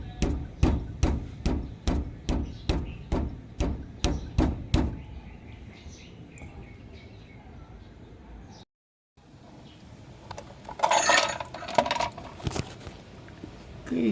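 A hammer strikes a stabilizer bar rubber bushing in a steady series of about a dozen sharp, close metallic blows, followed by quieter shuffling and handling of parts with a brief silent gap.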